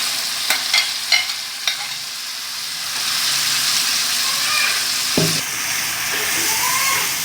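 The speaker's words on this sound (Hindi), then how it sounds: "अब हम इसमें गोश्त और आलू जो हमने निकाल कर रखे थे वही अब मज़ीद डालेंगे और मज़ीद हम उनको मिक्स करके पकाएंगे" Meat and potatoes stirred into a sizzling, frying masala for aloo chicken korma, a steady hiss of hot oil with scraping spoon strokes against the pot, close and clear.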